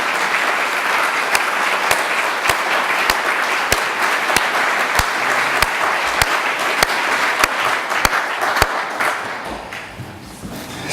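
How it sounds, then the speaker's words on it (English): An audience at a Stanford Libraries event gives a steady, sustained round of applause, with dense clapping and a few sharp close claps standing out before it fades slightly at the end. "I think we all owe Becky a round of applause."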